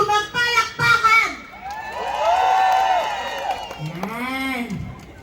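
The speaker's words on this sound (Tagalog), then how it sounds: "Kasi kailangan yung pumalakpak na may kasamang sigawan." A live crowd at a comedy show in Calgary breaks into cheering and clapping, with high shouts and whoops rising after a brief stretch of talk and swelling into a sustained roar.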